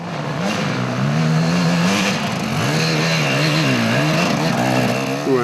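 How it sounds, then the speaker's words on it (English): A Yamaha YZ250 two-stroke motocross bike engine drones steadily at a 2006 enduro race, its pitch rising and falling with throttle changes, loud and close with no talking. "It's also a Yamaha YZ250 with a standard motocross gearbox"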